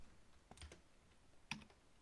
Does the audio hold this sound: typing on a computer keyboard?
yes